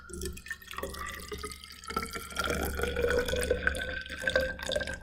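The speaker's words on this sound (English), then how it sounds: "Next, I'm going to add 50 milliliters of colored water to it." Colored water is poured into an empty plastic container, a close trickle with small drips and splashes running continuously and swelling slightly toward the end.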